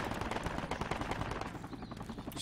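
Rapid automatic gunfire from the military shooter game Project Reality, dense and loud bursts crackling continuously with overlapping shots, easing slightly near the end.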